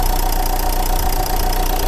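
Renault Kangoo Maxi engine idling smoothly, a steady close mechanical drone with an even low rumble and no rough shaking, running alone without talk.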